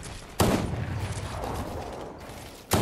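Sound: sniper rifle shot in the video game Fortnite

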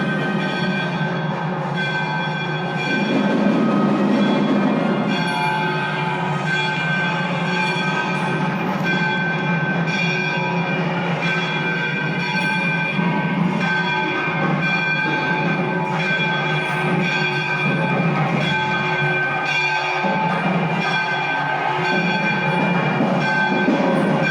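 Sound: puja with ringing bells inside Virudhachalam temple

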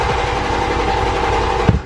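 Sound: Toyota Mark II JZX100 engine starting with fuse pulled

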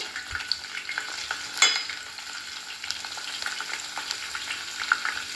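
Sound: frying gooseberry pieces in oil for homemade hair oil

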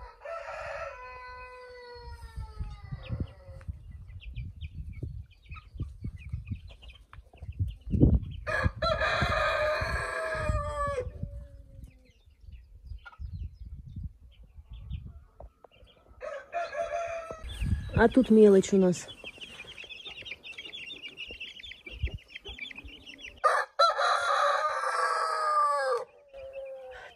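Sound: roosters crowing

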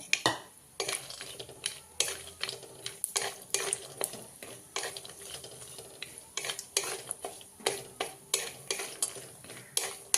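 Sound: cashews and almonds roasting and stirred in hot ghee

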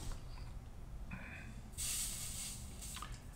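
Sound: soldering flux fizzing under a hot soldering iron

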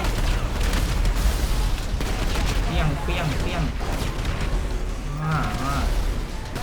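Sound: explosion in a video game

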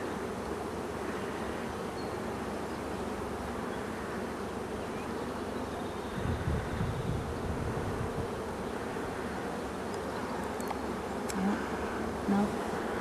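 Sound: honeybees buzzing

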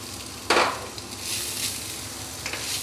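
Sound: mashed avocado frying in oil

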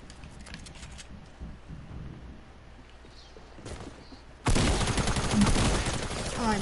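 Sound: tactical SMG gunfire in a video game

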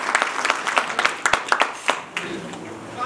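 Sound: audience applause at fundraiser

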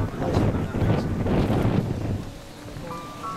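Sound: wind blowing at Zaanse Schans

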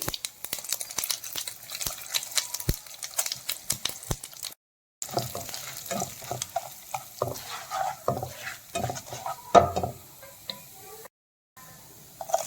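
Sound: mustard seeds and lentils frying in oil

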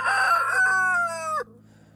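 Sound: rooster crowing

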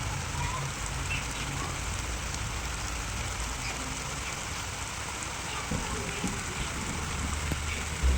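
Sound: rain falling

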